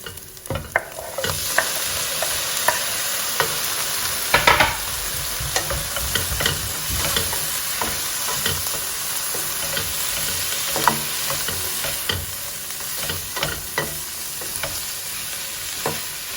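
Tomatoes sizzling in a pan over grated ginger and garlic for a chicken curry, a steady loud fry with scraping stirs and occasional clinks of the spoon against the pan throughout.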